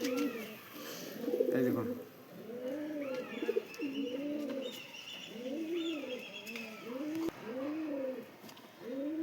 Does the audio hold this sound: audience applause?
no